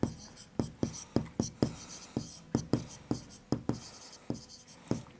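Chalk or marker writing on a classroom board during a maths lesson, a series of close, sharp tapping strokes in a quick irregular rhythm, with no speech over them.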